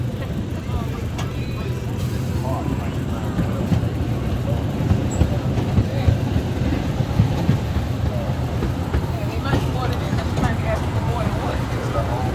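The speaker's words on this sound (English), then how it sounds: "This is a smooth train ride." Amusement park train ride at Lake Winnie rolling smoothly with a steady low rumble and light clatter, continuous and fairly close, with faint background voices.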